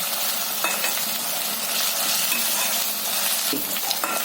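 Onion frying with a crushed green chili and garlic paste in a pan, loud continuous sizzle close up, with a few sharp spoon scrapes against the metal as the mix is stirred.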